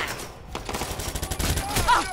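A rapid fusillade of gunshots rings out in a Watch Dogs 2 police hostage situation, with loud, repeated cracks close together and voices heard in between.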